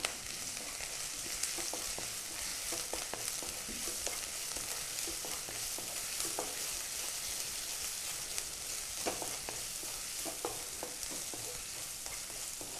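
Ginger, garlic and green chili paste frying in a pan, a steady close sizzle with scattered stirring scrapes and pops throughout, no voices.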